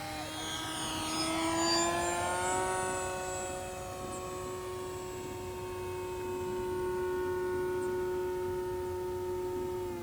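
E-Flite S.E.5a 900mm electric RC model biplane flying aerobatics, its motor whining steadily with a gliding pitch and swelling and fading slightly as it passes at moderate distance.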